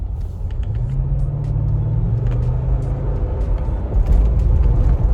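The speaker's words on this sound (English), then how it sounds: "I'm gonna give it a little gas so you can see how the acceleration is" A 2013 Lexus GX460 V8 SUV accelerates on the road, its engine note climbing in pitch through the first couple of seconds over a steady rumble of road noise, then settling as the load drops.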